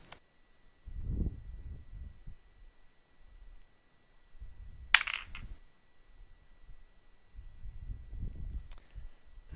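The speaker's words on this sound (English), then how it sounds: "I like the sound of dice rolling" Dice tumbling across a tabletop during a tabletop role-playing game session, a brief clattering burst midway, with low murmuring voices before and after.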